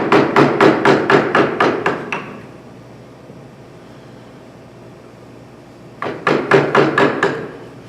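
Sharp, rhythmic blows of a mallet driving a carving tool into wood for a hand-carved claw-and-ball table leg: a rapid run of about nine strikes, a pause with faint room noise, then another quick burst of about six, close and loud.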